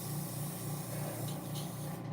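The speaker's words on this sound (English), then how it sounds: "You spray into it and it cleans out your brushes." Testers brush cleaner sprayed into a container, a close, steady hiss lasting a couple of seconds before cutting off.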